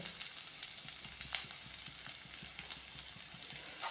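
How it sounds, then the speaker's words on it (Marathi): Steamed potato being sautéed in a pan, a quiet continuous sizzle with light spatula scrapes and small crackles, faint and alone. "आता थोडं परतूया"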